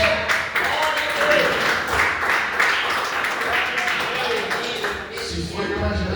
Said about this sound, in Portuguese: Se foi para Jesus, as palmas estão fracas, e dá para melhorar.